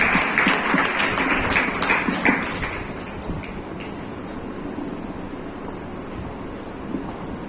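A church congregation claps hands during a prayer service: dense, loud applause for a couple of seconds that then fades into a softer, steady wash of noise.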